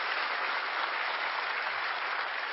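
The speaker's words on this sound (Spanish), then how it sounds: "Dale un aplauso a la palabra de Dios." A church congregation applauds in one continuous, even roar of clapping, fairly close and steady from start to finish with no talk over it.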